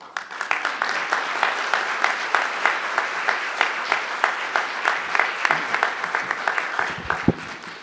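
A large audience applauds enthusiastically at a symphony orchestra music director announcement, loud sustained clapping with a steady pulse of accents, dying off near the end with a single sharp thump.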